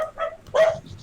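Dogs bark in a short burst, two or three quick, close yips and barks within about a second.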